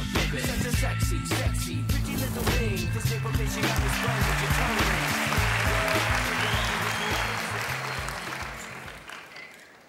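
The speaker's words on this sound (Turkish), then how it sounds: "Ve size alkışlarla uğurluyorum arkadaşlar." A studio audience on a Turkish television talent show applauds loudly and steadily for about eight seconds, then the clapping fades away. Music plays underneath the applause.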